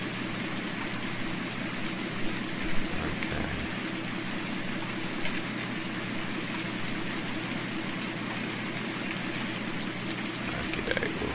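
Steady rain falls in the Farming Simulator video game, a dense, even hiss of drops that holds throughout at moderate loudness with no talking.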